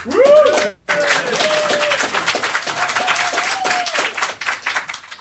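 A live audience at a science-themed evening show applauds, loud and sustained clapping from a crowd with a voice speaking over it.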